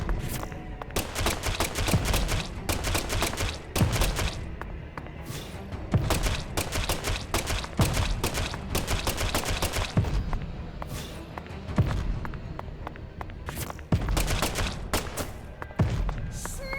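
Repeated gunshots in the video game Deadly Premonition 2, a steady string of sharp, loud cracks fired in clusters and single shots across the stretch, with thuds and footstep-like knocks between them.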